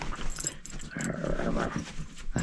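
A dog growls and grumbles continuously at close range while playing outdoors during a hike on desert BLM land, a low rough rumble with occasional whimpering.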